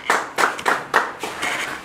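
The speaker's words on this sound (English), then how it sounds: "Please, just clap for yourselves again." Hands clap at a women's empowerment gathering: a short, close burst of brisk, fairly regular claps from a small group, lasting under two seconds.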